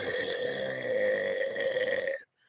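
A person imitates a loud belch with the voice, one long drawn-out guttural burp held for about two seconds before ending sharply, close and alone.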